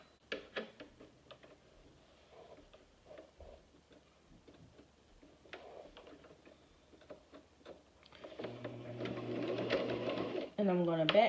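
Home sewing machine stitching a quarter-inch seam on a fabric face mask: faint scattered ticks first, then a steady rapid mechanical whir of stitching that grows louder toward the end.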